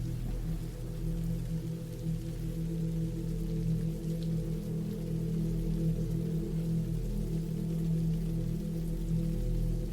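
Steady rain falls without a break, a constant close hiss layered over a low, even rumble, with no voices.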